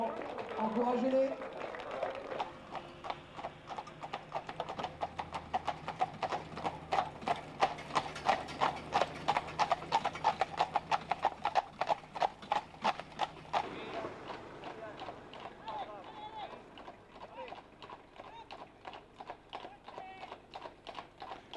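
Heavy draft horse hooves clip-clop in a fast, steady rhythm on hard ground, growing louder then fading as they pass, with a cheering crowd and voices in the background.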